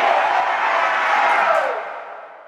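A crowd roars and cheers in a sports video game, a dense, loud wall of voices that holds steady and then fades away over the last second.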